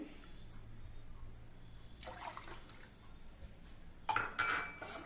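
Water being poured into a pot for making butterfly pea flower tea, a brief splashing pour with faint clinks of metal cookware near the end, fairly close and otherwise quiet.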